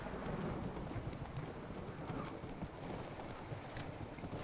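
Hooves of the horse Roach clip-clop steadily along a road in The Witcher 3, a continuous near rhythm of hoofbeats over a dense, noisy game soundscape.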